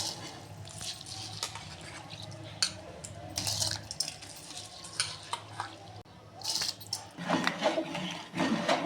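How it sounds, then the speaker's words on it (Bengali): Rice grains tipped into a pot of boiling water with a spoon of white oil for restaurant-style jeera rice, quiet bubbling and stirring with soft pouring rustles and splashes that grow louder near the end. "এবার আমি চালগুলো দিয়ে দিচ্ছি।"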